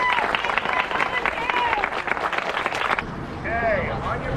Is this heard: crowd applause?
yes